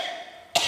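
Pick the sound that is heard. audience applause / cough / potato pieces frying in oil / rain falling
cough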